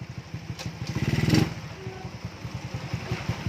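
A small carburetted motorcycle engine runs with a steady putter, briefly revving up and dropping back to a quick idle, heard close during carburettor tuning.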